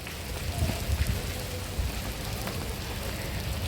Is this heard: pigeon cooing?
no